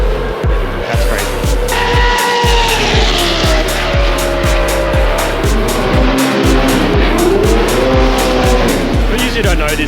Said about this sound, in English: This whole place has gone silent listening to this car.